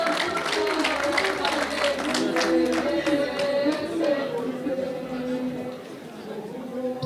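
Guests at a wedding celebration applaud, with a burst of clapping in the first few seconds that fades under crowd chatter and a voice speaking.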